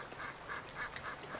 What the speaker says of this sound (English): They quacked and quacked.